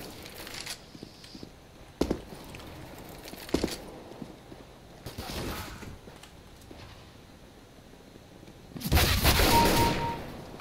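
Gunfire in a CS:GO deathmatch, a few sharp isolated shots spaced several seconds apart, then a heavier burst of fire near the end.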